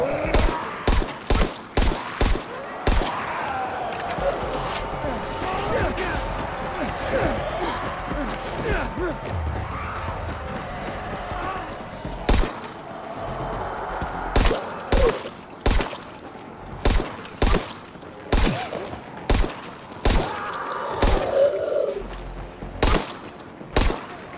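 Sharp, loud gunshots from a firearm in Dying Light 2 ring out in irregular bursts and rapid single shots, separated by short pauses filled with game ambience and a voice talking.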